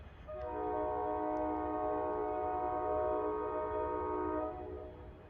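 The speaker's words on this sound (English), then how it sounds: "loud horn. Listen to that." NJ Transit train 234 sounds its loud multi-tone horn as it comes down the main line, one sustained blast of about four seconds, clear and strong over a low background rumble.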